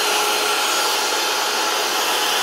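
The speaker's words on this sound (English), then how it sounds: "It's not sucking the air inside, but it's blowing it outside." An electric air blower runs steadily and loudly close by, a constant broadband whoosh with no pauses, used for blowing dust off 1:18 scale model cars.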